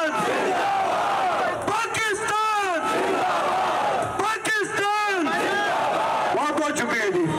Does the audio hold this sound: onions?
no